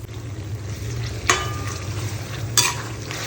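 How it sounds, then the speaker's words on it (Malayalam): Soya chunks coated in ginger garlic paste sauté in a pan with a soft, steady sizzle, and two sharp clinks of a spoon against the pan break through it. "ഇനി നമുക്കിതിനെ ഒന്ന് സോട്ട് ചെയ്തെടുക്കാം."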